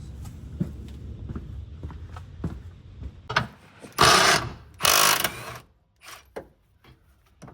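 Ratchet work on the trailing arm bolts of a BMW E36 M3 under repair, a series of soft clicks followed by two loud bursts of rough mechanical noise close by, then a few scattered clicks as it falls quieter.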